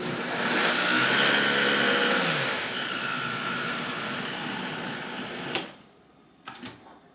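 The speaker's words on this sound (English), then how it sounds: "I'm going to add 1 cup of water to the blender to help with the blending" A kitchen blender purees vegetables with a cup of water, a loud whirring motor that runs steadily for several seconds, drops in pitch, and then shuts off, followed by a couple of faint clunks.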